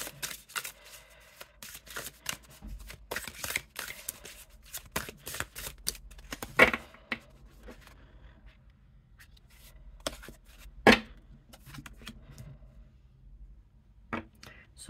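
Slippery oracle cards from a Wild Woman Oracle deck shuffled by hand, giving bursts of soft papery riffling and clicking in the first half, then quieter handling with a couple of sharp taps and light rustles.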